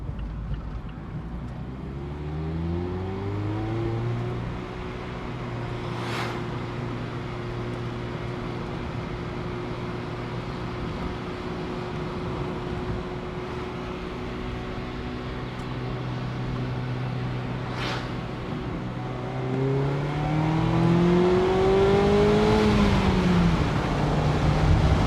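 A Mazda MX-5 roadster driving slowly through city traffic, its engine a steady, close in-cabin drone that holds an even pitch for a long stretch before the revs climb and the tone grows louder near the end.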